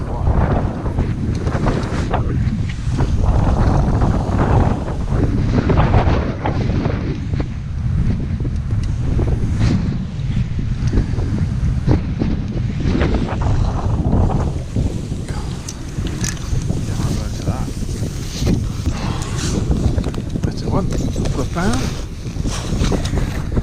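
Strong wind blows continuously across a carp fishing lake during a match, buffeting the microphone with a loud, rumbling roar that never lets up.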